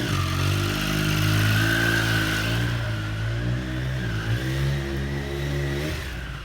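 Triumph Speed Twin 1200 motorcycle engine while riding, a steady loud harmonic drone that rises slightly and then settles, heard close and alone with no voices.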